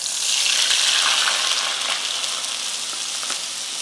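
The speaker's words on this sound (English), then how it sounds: "The pan's hot and the grease is hot." Cornbread batter sizzles steadily in a hot greased pan, a loud, close hiss that rises at first and then settles to a steady crackle, with no voices.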